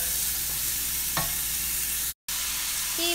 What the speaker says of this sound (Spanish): el aceite ya está caliente, ahora sí lo vamos a agregar y lo vamos a sofreír